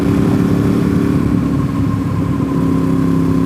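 Ducati 848 sport motorcycle on the road, fitted with Dunlop Roadsmart 2 tyres; a steady, loud engine drone with continuous wind rush holds for the whole stretch, with no voices.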